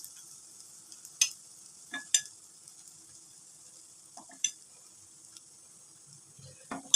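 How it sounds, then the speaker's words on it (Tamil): White kuzhi paniyaram cooking in a paniyaram pan, a quiet continuous high sizzle broken by several sharp taps and scrapes as the pieces are turned, close, no talking. "2 பக்கமும் திருப்பி போட்டு நல்லா வெந்துடுது."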